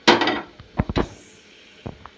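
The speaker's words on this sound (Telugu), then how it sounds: "నేను కుక్కర్ గిన్నె పెట్టుకుంటాను ఫ్రెండ్స్." A metal pressure cooker pot is set down on a lit kitchen stove: a loud clattering scrape up close, then a few sharp knocks and a couple of softer clinks as it settles.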